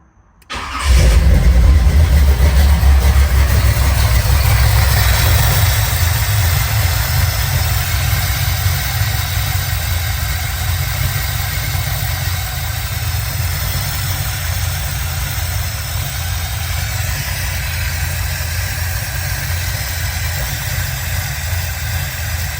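A car with a four-injector engine cranks and catches after a short pause, then settles into a loud, steady idle with a low rumbling drone that continues uninterrupted for over twenty seconds.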